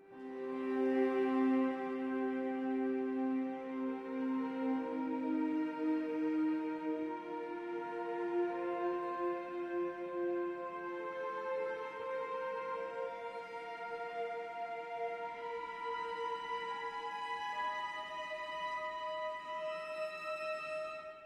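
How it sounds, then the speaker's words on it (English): Spitfire Audio Mural symphonic strings play sustained harmonics, airy high overtones swelling in layered held notes that shift slowly across a steady, continuous texture with no talking. "the harmonics sound like this"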